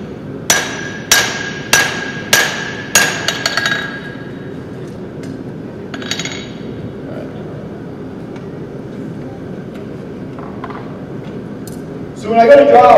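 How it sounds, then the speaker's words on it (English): Blacksmith's hammer blows ringing on hot steel at an anvil: about six sharp, evenly spaced metallic strikes close by, then a quieter stretch with a couple of softer knocks and louder noise at the end, with a low background hum. "I'll use the edge of the anvil and I'll do half-face blows"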